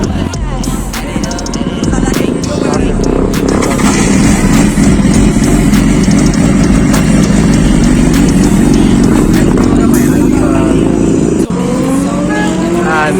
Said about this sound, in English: And that is the BMW S1000RR.